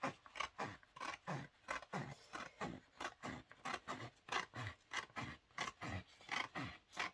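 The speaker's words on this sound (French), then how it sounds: "Je coupe plus droit au ciseau qu'avec le cutter et la règle." Scissors cut through card in a quick, regular series of crisp snips, close and faint, about two per second, steady throughout with no voices.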